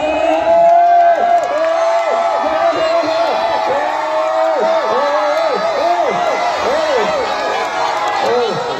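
A lively crowd gathered for village Eid games, a steady loud wash of many voices with shouts and whoops rising over it throughout, close and continuous.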